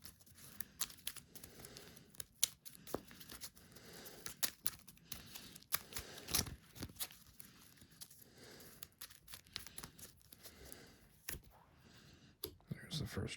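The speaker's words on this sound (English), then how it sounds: "I'm just going to shuffle my deck real quick" A deck of game cards is shuffled in quick bursts of crisp riffling clicks and flicks, close and quiet, with brief pauses and faint background sounds between.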